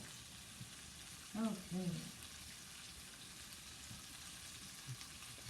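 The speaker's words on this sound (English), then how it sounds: "she's frying up this steak, and this is called Mongolian ramen beef" Steak sizzles steadily in a frying pan while Mongolian ramen beef is cooked, a constant close hiss with faint stirring, and a voice briefly speaks a single word.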